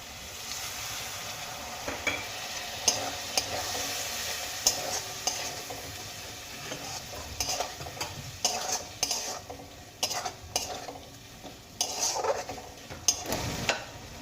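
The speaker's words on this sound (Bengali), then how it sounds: "এবার আমি এর মধ্যে অল্প অল্প জল দেব আর মশলা খুব ভালো করে কষিয়ে নেবো" Spices being fried in a pan with a little water added, a continuous sizzle broken by frequent scraping and clinking stirring strokes, fairly close and alone.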